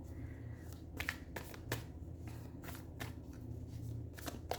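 Tarot cards being shuffled by hand, a series of close, soft riffling and slapping bursts repeating at a fairly steady pace throughout, with no talking.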